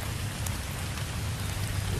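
Steady rain falling outdoors at a rifle range, a constant close hiss of drops spattering on surfaces with a low background rumble, brief and unbroken, no voices.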